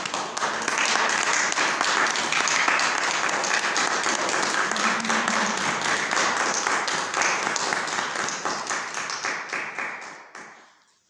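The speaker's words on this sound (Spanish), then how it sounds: "Dale un fuerte aplauso al Señor Jesucristo." A church congregation gives sustained loud applause, dense overlapping clapping that holds steady for about ten seconds before tapering off to silence.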